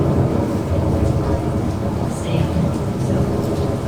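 Simulated rain and thunder inside a Walt Disney World Magic Kingdom attraction, a loud, steady downpour with low rumbling, with a voice speaking over it.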